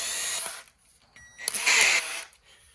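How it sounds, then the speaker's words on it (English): An electric drill with its clutch set to direct spins an engine oil pump on a 1975 Triumph TR6, giving two short high whirring bursts, the second louder and steadier, with quiet gaps between. "So I'm gonna put it in a drill, which drill also has a clutch, but I'm gonna set it to no clutch."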